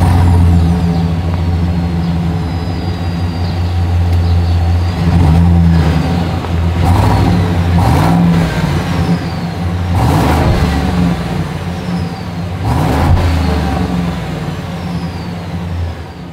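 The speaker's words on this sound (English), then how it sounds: "As always, here is that exhaust clip." Exhaust of a 2024 Chevrolet Silverado 2500 HD heavy-duty pickup, loud and close: a steady deep idle broken by several sharp revs that rise and fall back, with no talk.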